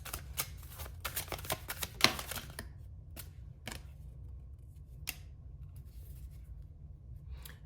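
Madame Medora tarot cards being shuffled and drawn by hand, a quick burst of soft riffling and tapping followed by a few sparse, faint card snaps against quiet room tone.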